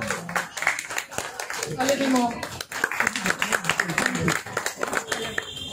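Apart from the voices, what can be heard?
audience applause and clapping at a drag workshop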